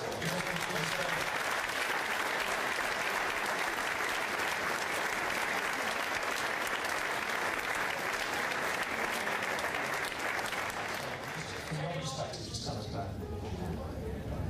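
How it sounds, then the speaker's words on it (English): A large crowd at a Manchester United dinner applauds continuously and loudly, sustained clapping that goes on for many seconds before easing slightly near the end. "give the people who helped organise this a huge round of applause"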